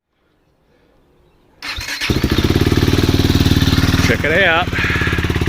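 A KTM 390 Duke motorcycle engine, cold and with a freshly cleaned and reinstalled throttle body, cranks over after near silence, catches and settles into a loud, steady, close single-cylinder idle with a brief revving wobble; someone speaks briefly.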